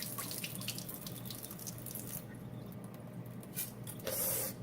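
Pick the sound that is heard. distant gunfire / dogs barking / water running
water running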